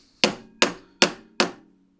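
Four sharp, evenly spaced hammer blows ring out close and clear on the carburetor tops of a Jaguar XJC engine, each strike decaying quickly into near silence with no talking.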